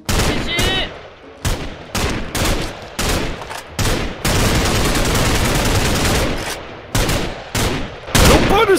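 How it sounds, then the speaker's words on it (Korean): Automatic gunfire during a shooting drill in a Minecraft roleplay, heard as loud, sharp bursts that break into a sustained rapid volley in the middle and then return to short bursts. "연발을 쏘는 거야!"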